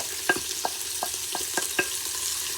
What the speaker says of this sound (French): Et je viens ajouter les oignons. Je vais les faire dorer 4-5 minutes.